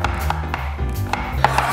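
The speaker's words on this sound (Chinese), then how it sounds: "那我们先把洋葱切成丝" Knife slicing an onion into strips on a cutting board, a few close, crisp taps spaced irregularly over a low background hum.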